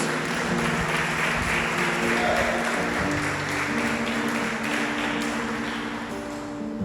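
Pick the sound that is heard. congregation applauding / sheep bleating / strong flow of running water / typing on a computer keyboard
congregation applauding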